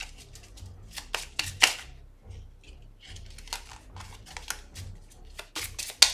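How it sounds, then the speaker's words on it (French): A card game deck is shuffled by hand close by, with crisp riffling bursts and light slaps arriving in irregular clusters over several seconds, interrupted by short pauses and no speech. "Et on va mélanger le deck."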